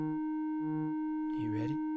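Steady electronic tone from a Moog Subharmonicon synthesizer, a constant pitch with overtones held throughout, while short lower notes pulse on and off beneath it and a voice talks briefly near the end.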